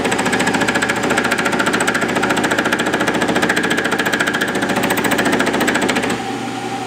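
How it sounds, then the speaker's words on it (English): A milling cutter taking a pass on a model internal-combustion engine cam profile set on a rotary table, giving a loud, close, rapid rhythmic chattering buzz that holds steady for several seconds, then drops away as the cut ends. "I'm going to start cranking the handle on my rotary table one turn and then making a pass"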